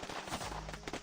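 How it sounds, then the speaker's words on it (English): Rapid gunfire from guards carrying out a massacre in a holding cell in the game Reverse: 1999, a dense, loud burst of overlapping shots lasting about a second. "Sound of gunshots echoes throughout the holding cell."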